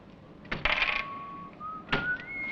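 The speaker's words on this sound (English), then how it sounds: "I said stop that whistling." A person whistles long, steady held notes that step up in pitch, broken by sharp clinking knocks.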